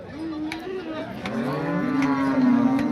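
A heifer calf at the Modnimb cattle market lets out a long, drawn-out moo, low and wavering, heard at moderate distance with faint background chatter.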